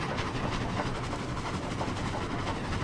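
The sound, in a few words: train running on rails in Roblox Dead Rails video game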